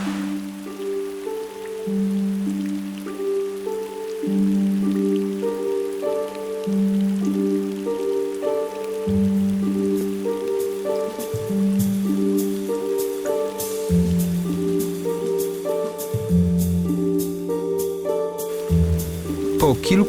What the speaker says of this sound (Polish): słońce dawno zamieniło się w silny deszcz